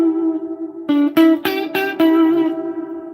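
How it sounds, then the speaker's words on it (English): A guitar runs through the reverb effect on a Boss RC-600 looper: a sustained tone, then four or five plucked notes whose washy reverb tails ring out and decay. "the character of that reverb just sucks"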